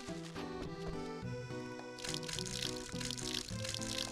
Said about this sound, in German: Müssen wir alles gießen, das wird auch noch ein bisschen dauern.